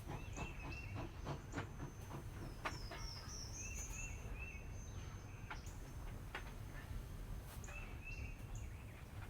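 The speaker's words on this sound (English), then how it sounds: "Given that the train has stopped just for me" A train waits at a station in the video game The Lion's Song: a steady low rumble with soft steam hiss underneath, faint scattered chirps and a few light clanks, calm and continuous with no talking.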